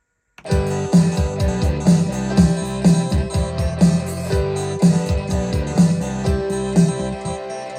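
A Yamaha PSR-740 keyboard plays back a recorded song steadily, with repeating chords over a punchy beat and bass, full and continuous with no voices.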